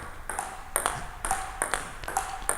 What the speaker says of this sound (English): So that's the familiar sweet sound of a table tennis ball.